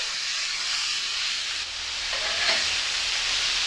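Burger patties fry on a hot griddle with a steady, dense sizzle and hiss, loud and continuous throughout, with a slight shift in texture partway through and no talking.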